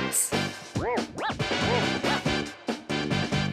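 A dog barks and yips in a rapid series of close, loud, rising calls with short gaps between them, some sounding like whimpers.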